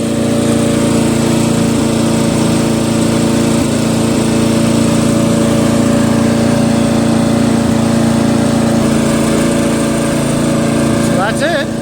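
Murray 12.5HP Briggs & Stratton flathead 40-inch widebody lawn tractor engine held at full throttle while driving, a loud, close, steady droning hum that stays even throughout, with a voice speaking over it.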